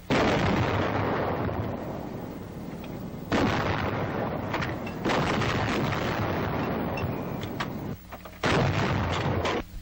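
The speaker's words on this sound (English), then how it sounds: "the order to commence firing is given" A coast artillery gun at a 1942 coastal battery fires heavy booming rounds, several massive blasts with long rumbling decay filling the recording, loud and close.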